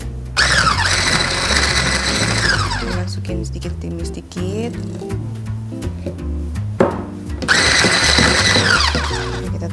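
A kitchen blender whips whipping cream as lemon juice is added bit by bit, a loud motor whir that cuts out midway and then starts again, with a person talking over it.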